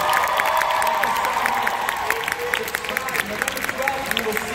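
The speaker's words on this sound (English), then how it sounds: "Give them one more round of applause." An audience at a D23 Expo panel for the High School Musical series applauds and cheers, with continuous crowd clapping and scattered whoops throughout and a voice talking over it.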